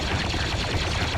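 Rapid gunfire crackles in a chaotic Star Wars Battlefront 50v50 battle on Tatooine, a dense, continuous burst of automatic blaster shots with no pauses.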